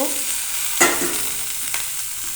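Boiled potato gets stirred into a frying spice mix, making a steady sizzle broken by one sharp scrape of the spoon early on and a softer one later, close and fairly loud, with nobody talking.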